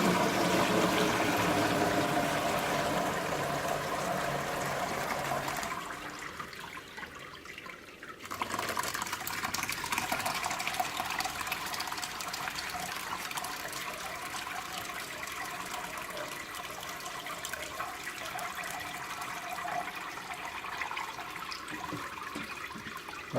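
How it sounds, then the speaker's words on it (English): Homemade Colby cheese curds and whey pour into a cheesecloth-lined mold, a steady watery rush and splash that briefly dips and then continues as a long, even stream of liquid draining close by. "we'll try to get these poured into the mold"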